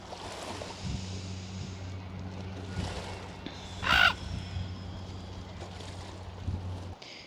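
Ravens give a few scattered caws by the ocean, with wind and a steady low hum of a boat or engine running underneath, a louder burst near the middle.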